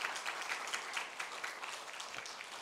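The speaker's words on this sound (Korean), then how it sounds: "여러분들 함께 위로의 박수로" Church congregation at Sunday worship giving a round of comforting applause for a bereaved family, a fairly quiet but steady clatter of many hands that tapers slightly toward the end.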